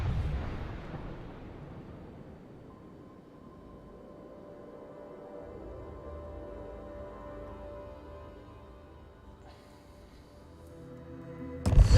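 Spaceship retro thrusters firing during a landing in the game Starfield, a loud rumbling burst that fades into a long low drone with thin tonal hums, then a sharp heavy thump at the end.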